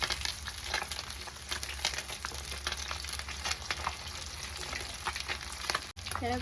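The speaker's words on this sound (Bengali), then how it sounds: "এই দেখো মাছগুলো আমার প্রায় ভাজা হয়ে এসছে" Tilapia pieces frying in hot oil in a pan, a dense continuous sizzle with crackles and occasional stirring scrapes, close and steady, no talking.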